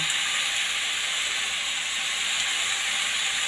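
Vegetables frying in a little oil, a steady broadband sizzle and hiss that holds even and close throughout, with no talking over it.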